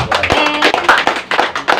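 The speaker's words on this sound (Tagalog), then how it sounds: "Sabay-sabay po palakpak sa ating Diyos." Church congregation clapping together during a preaching service, close and loud sharp claps in a quick irregular rhythm.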